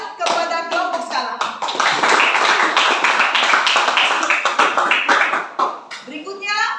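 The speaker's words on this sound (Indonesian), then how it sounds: "kita memberikan tepuk tangan kepada kelompok skala" Classmates in a school lesson clap for a student group, close and sharp hand claps in an uneven rhythm, with voices talking over and between them.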